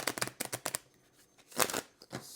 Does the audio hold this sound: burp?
no